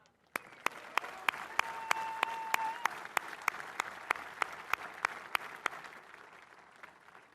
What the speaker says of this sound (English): Let's give a round of applause to the men and women who made this happen.